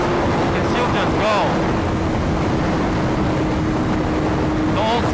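A new BMW S1000RR sport motorcycle at speed in fifth gear, its engine a steady droning hum buried under a loud, continuous rush of wind buffeting the microphone for the whole stretch.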